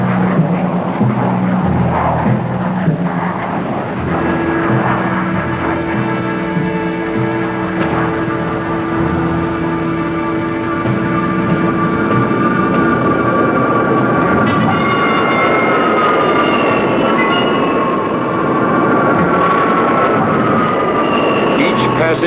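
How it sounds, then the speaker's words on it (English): Military aircraft engines of Tactical Air Command running up on alert: a loud, steady, droning roar layered with whining tones that shift and climb partway through. "Tactical Air Command quickly brings its aircraft to an advanced alert."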